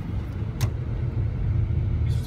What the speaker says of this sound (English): this is a car on my ass already